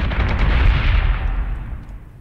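Heavy gunfire erupts in a space battle in the video game Battlestar Galactica Deadlock, a loud booming roar of shots that swells and slowly fades.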